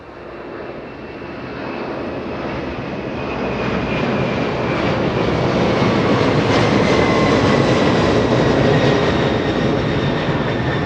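An airliner takes off from runway 25 left at LAX, a loud jet roar that swells steadily over about eleven seconds as the aircraft accelerates, with no talk.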